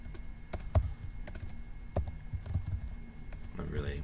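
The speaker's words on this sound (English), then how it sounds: "I'm really kind of typing like a pro here." Typing on a computer keyboard in a steady run of quick, close key clicks with a few louder strokes, continuing under a low background hum.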